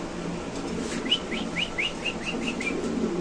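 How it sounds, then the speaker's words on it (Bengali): At a pigeon market, a rapid series of about eight short, evenly spaced chirping calls rings out clearly over a low murmur of background noise, with birds close by. "একদম শৌখিন কবুতর আপনি দেখতে পাচ্ছেন একদম হাই কোয়ালিটির কবুতর"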